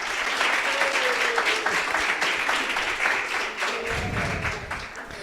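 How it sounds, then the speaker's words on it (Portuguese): Steady applause from a podcast studio audience, dense clapping lasting throughout at an even level, with a faint voice murmuring briefly underneath. "Pode aplaudir, que ficou legal"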